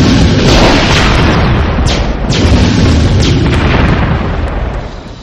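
Laser satellite strike in the Warzone 2100 strategy game, a loud, sustained explosive roar that stays dense for several seconds, with a few sharp crackles inside it, then slowly fades at the end.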